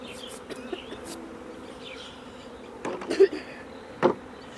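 Bees swarm at a bee farm while honey is taken from the hive boxes. A steady, dense buzzing fills the background, with louder insects occasionally passing close by.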